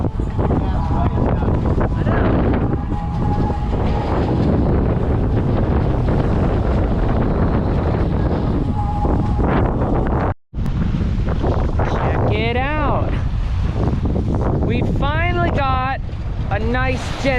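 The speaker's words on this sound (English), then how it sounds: "A nice gentle breeze and we're sailing great, not crazy anymore." Steady broadband wind roar while sailing a boat on open sea in a gentle breeze, loud and continuous throughout, with rushing water beneath and brief voices or bird-like calls late on.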